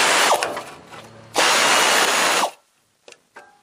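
Water pump bolts coming out under a power tool, two loud whirring bursts close by, followed by quiet, a faint clink and a light knock.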